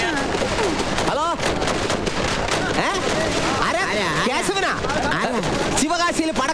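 Strings of firecrackers burst in rapid, continuous crackling volleys at a festive celebration, loud and close, with excited shouting voices over the bangs.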